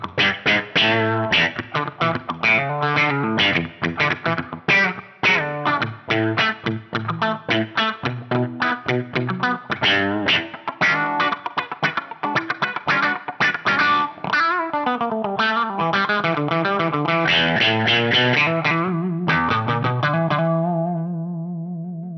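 Funky electric guitar through a Mu-Tron-style envelope filter on a Fractal FM9, bridge pickup with the volume wide open, playing quick rhythmic choppy phrases with a quacky sweep, ending on a long sustained note, loud and alone.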